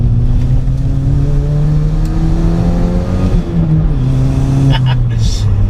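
A modified Mk5 Golf GTI turbocharged hatchback engine revs loudly and steadily, its exhaust droning with rising and falling pitch throughout, a brief whoosh near the end.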